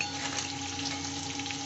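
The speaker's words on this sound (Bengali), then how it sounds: "আলু ভাজতে দিয়েছি," Potatoes frying in a pan of hot oil while a Bengali pabda fish curry is prepared: a close, steady, even sizzle that runs without a break and with no talking.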